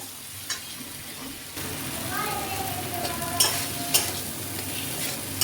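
Masala paste of chili powder, cumin powder and ginger paste being stirred into frying tomatoes in a pan, with steady oil sizzle under a spoon scraping and a few sharp clinks against the pan.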